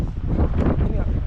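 Gusty wind roaring against the microphone during a snowfall in Canada, a steady close buffeting rumble with no clear voices.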